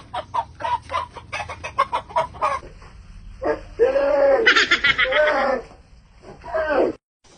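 Chickens cluck in quick rapid bursts nearby, with a longer squawking call in the middle and low background noise.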